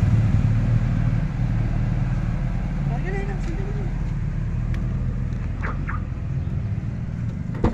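BMW motorcycles rolling past near a beach resort in Baler, engine rumble steady and fairly loud amid outdoor background noise, with brief chirps and clatter mixed in.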